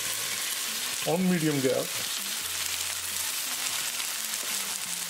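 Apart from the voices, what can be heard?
matar paneer with cream cooking on medium heat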